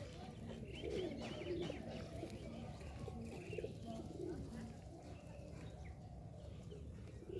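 Domestic pigeons give soft, repeated low coos, several calls spread across a faint, steady outdoor background with no clear speech.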